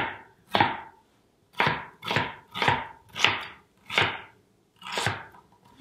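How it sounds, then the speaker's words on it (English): A knife coarsely chunking onion halves on a cutting board, seven sharp, evenly spaced thunks landing about once every half second, close and clear with nothing else heard. "Now you could cut your onion into strips for a little bit more texture."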